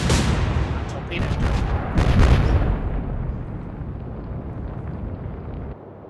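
A torpedo strikes a ship in the naval war game Atlantic Fleet, producing a loud, rumbling explosion with a burst of crackling blasts around two seconds, then a long fading roar.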